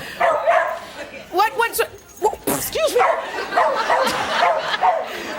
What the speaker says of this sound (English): Fiendish dog.